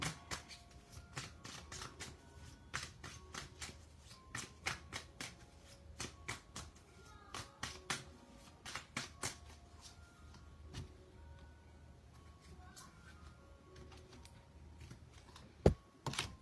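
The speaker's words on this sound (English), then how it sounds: "Let me shuffle the deck." A deck of cards is shuffled repeatedly nearby, with quick riffling bursts and soft slaps of the cards settling between them.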